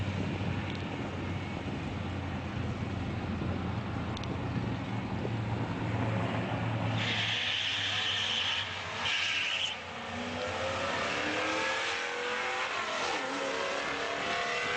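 A car launches at a drag strip, with a loud continuous engine roar and possible tyre spin, changing tone partway through as it accelerates away, heard from nearby with wind noise.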